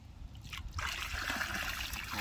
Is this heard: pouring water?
yes